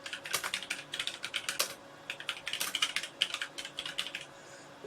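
A new message typed on a computer keyboard, close and quick keystrokes in uneven bursts with a short pause partway through.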